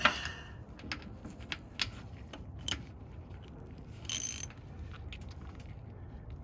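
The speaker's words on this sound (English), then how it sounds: "So now just take your wrench and torque it down a bit." A wrench tightening the oil drain plug on a Yamaha Viking side-by-side, giving a series of soft ratcheting clicks and metallic ticks, faint and close in a quiet garage.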